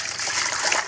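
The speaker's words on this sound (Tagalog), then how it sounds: "dagdagan natin yung tubig" Water poured into a guppy breeding tank makes a steady close trickle and splash lasting under a second, with no talking.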